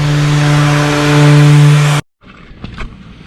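A power sander whines loudly and steadily on a small wooden river table, then cuts off abruptly after two seconds, leaving faint handling knocks.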